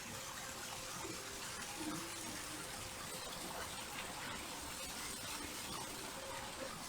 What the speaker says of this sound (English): And then there's another flaming fountain over here.